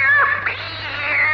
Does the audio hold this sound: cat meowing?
yes